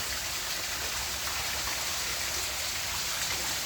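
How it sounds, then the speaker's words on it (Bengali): A waterfall trickles gently inside a man-made cave in Paris, a steady, even hiss of falling water that runs unbroken throughout with no voices. "একদিকে পেছনে ঝর্নার ঝিরি ঝিরি শব্দ আর সামনে লেক"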